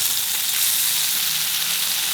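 Chicken pieces fry uncovered in oil in a pan over a medium flame, giving a steady, close, even sizzle with no talking.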